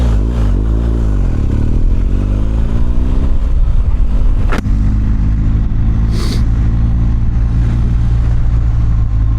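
A BMW R1250GS motorcycle engine during winter riding: a loud, steady rumble close by, with a rising pitch sweep early on as it revs, continuous throughout.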